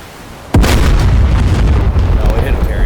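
Harpoon anti-ship missile slamming into an aircraft carrier in the DCS flight simulator, fired from an F/A-18C Hornet: a sudden loud blast about half a second in, followed by a sustained, dense roaring rumble.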